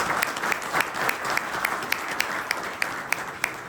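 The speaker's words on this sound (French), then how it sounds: "Ils méritent vraiment vos applaudissements." A seated audience at a conference gives steady applause, a dense wash of many hands clapping at a moderate distance, with a few sharper individual claps standing out and no talking.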